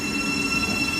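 A Thameslink Class 700 electric train departs Elstree and Borehamwood station on the Midland Main Line, giving a steady, fairly close rumble with a faint wheel squeal and high electrical tones, and nobody speaking.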